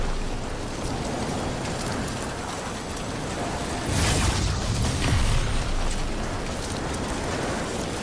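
Rain in the video game Death Stranding, a continuous dense hiss of falling rain that swells louder for a few seconds in the middle before settling back, with no talking.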